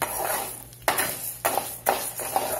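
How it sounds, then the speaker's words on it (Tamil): Green moong dal roasted in ghee in a pan for payasam, with a soft continuous dry rustle and several sharp scraping strokes of a spoon against the pan, close and steady. "இப்போ அதே நெய்யில் என்ன பண்ணுங்க, இந்த பச்சைப்பயிரை வறுத்துக்குங்க."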